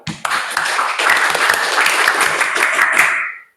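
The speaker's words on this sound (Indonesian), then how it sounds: "tepuk pramuka" A school class does the rhythmic scout clap known as tepuk pramuka, many hands striking together in a dense, steady burst that starts abruptly and stops after a few seconds, loud and close with no talking.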